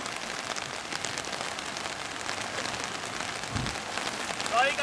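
Rain pours down steadily during white water rafting on a river, a loud, dense hiss of drops hitting surfaces that continues throughout, with a brief low thump near the middle and a faint voice at the end.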